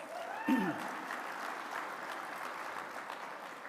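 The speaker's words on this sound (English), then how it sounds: "So give them a round of applause" Audience applause at an award ceremony in a Tyler conference center: a faint, steady wash of clapping from a crowd that holds evenly for several seconds after a brief louder burst at the start.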